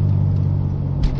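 A car engine pulls away in gear, a steady low rumble with slightly rising revs, close and fairly loud, with no voices.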